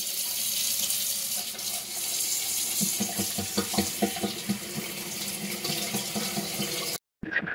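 Clear water pours from a tap into a sink with a steady splashing rush and gurgling patter. It cuts off abruptly near the end, leaving a brief silence before a little more splashing returns.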